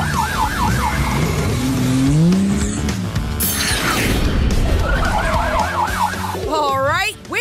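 Fire truck siren from the PAW Patrol cartoon, rising and falling wails that repeat early, fade under busy mechanical and vehicle sounds, then return with quick sweeps near the end.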